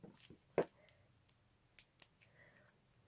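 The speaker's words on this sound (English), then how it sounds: "non-stick scissors, that's quite helpful when you're cutting tapes" Non-stick scissors snip through tape with a sharp close click, followed by a few quieter ticks and rustles in a quiet room.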